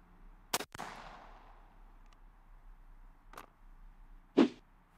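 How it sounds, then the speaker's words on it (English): A .410 shotgun fires a Pendleton number 9 shot load, one sharp loud outdoor blast with a fading echo, followed by fainter clicks and a later louder metallic clank. "let's see how this load does out of the shotgun."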